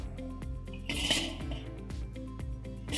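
The metal lid of a Weber kettle grill, which has a top vent, is shifted around. It gives quiet metallic clinks and clanks at an uneven rhythm, with a slightly louder scrape partway through.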